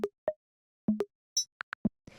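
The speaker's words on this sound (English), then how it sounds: "The first thing I have here is the C78," Sparse hits from a C78 drum machine, used in organic electronic music: isolated tonal bongo-like pings, a short hissy cymbal burst, clicky rimshot blips and a closing shaker swish, each clean and separated by silence.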